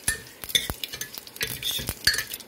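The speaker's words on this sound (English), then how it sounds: "Add curry leaves, red chilies, break it and put it inside. Give it a stir." A spoon scrapes and clinks in a pan as curry leaves and broken red chilies fry for dal, with a soft sizzle under a quick run of close, rhythmic stirring strokes.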